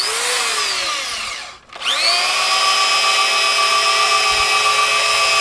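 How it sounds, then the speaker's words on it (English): A drill press bores into hard hickory wood with a loud, whining motor hum that dips briefly as the bit bites in, then recovers to a steady, high-pitched drone. "So with this drill press we're able to do it"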